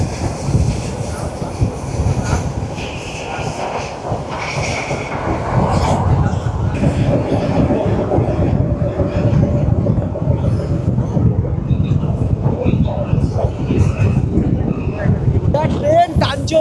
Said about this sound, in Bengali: সেই সাথে শুনতে পাবেন এই যে ট্র্যাকের আওয়াজ, যখন ট্র্যাক চেঞ্জ হচ্ছে, ট্রেন ছুটছে আমাদের